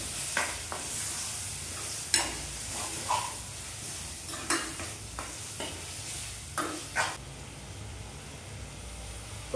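A spoon stirs gongura and tomato boti in a pan with a steady faint sizzle, broken by a string of short scraping strokes at irregular intervals, fairly quiet and without talk.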